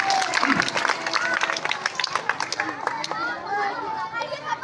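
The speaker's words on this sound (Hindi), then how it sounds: "आप हजरात ताली बजाकर के हौसला अफजाई फरमाएं" Applause from a seated audience in the wide courtyard of an Islamic madrasa as a student is honoured at a results and prize ceremony; steady, dense clapping runs throughout, mixed with children's chatter and crowd noise.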